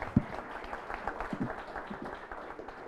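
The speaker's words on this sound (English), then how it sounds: "Can we have another round of applause for our panel here" A live audience applauds a panel at a work masterclass event, moderate, steady clapping with a sharp clap near the start and a few brief voices mixed in.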